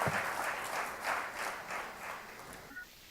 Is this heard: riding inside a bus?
no